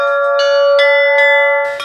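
Church bells chime in a clear, close peal, about five evenly spaced strikes ringing out over one another with long, overlapping tones.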